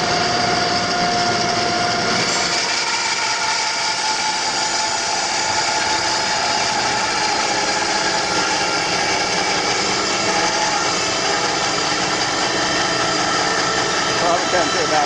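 A bandsaw resaws walnut roughly eight inches thick while a dust collector runs, raising a loud, steady whine and roar that kicks in about two seconds in and then holds evenly.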